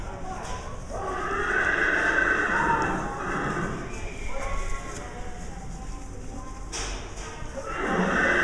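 A horse whinnies in a stable at the Wadena County Fair in Minnesota. Drawn-out neighs rise over a busy barn backdrop of thumps and shuffling, with people's voices nearby.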